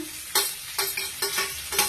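Chopped onion, capsicum, ginger, garlic and green chilli frying in a pan, with a steady low sizzle broken by four sharp, regular scraping bursts of a spatula stirring close by.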